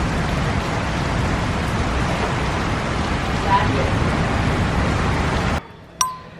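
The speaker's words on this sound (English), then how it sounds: "And the rains are going." Pre-monsoon rain falls steadily in India as a dense, loud hiss that fills most of the stretch, then cuts off abruptly, followed by a single sharp clink.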